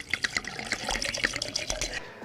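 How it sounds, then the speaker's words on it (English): Two shots of vodka are poured, a run of splashing, trickling liquid in quick uneven bursts, close and fairly clear. "2 shots of vodka."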